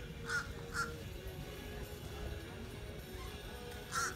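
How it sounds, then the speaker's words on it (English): Crows caw three times at a Florida beach near a volleyball area, sharp and fairly close, set against a steady wash of outdoor background noise. "We got some crows that just want to be noisy."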